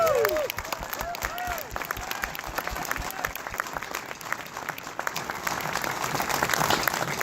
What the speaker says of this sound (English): Please give Dave a round of applause.